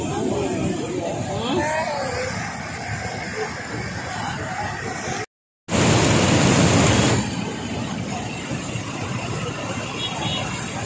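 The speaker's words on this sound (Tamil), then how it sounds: "லைட்டாக திறந்ததுக்கே அந்த பக்கம் எவ்வளோ தண்ணி போகுது, அடிச்சுக்கிட்டு போகுது தண்ணி" Water gushing from a partly opened sluice gate at Poondi dam roars steadily with a loud hissing rush, swelling briefly after a short gap, while a voice talks over it.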